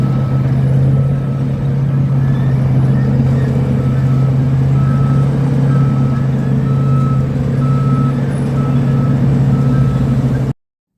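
A garbage collection truck rumbles at close range, its engine hum steady and loud beneath a repeating reversing beep for about ten seconds before cutting off abruptly.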